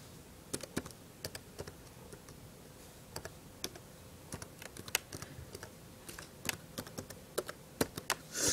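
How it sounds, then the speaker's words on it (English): Someone types on a computer keyboard, with scattered clicking keystrokes in short bursts and pauses, close and fairly quiet, and no talking. "I'm just going to type it in so you guys know how it's spelled and stuff"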